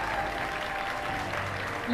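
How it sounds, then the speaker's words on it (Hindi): Sustained applause fills a classroom scene in the Pakistani TV drama Main Manto Nahi Hoon, a steady dense clatter of many hands lasting throughout, with voices talking underneath. "ये तालियां क्यों बज रही हैं?"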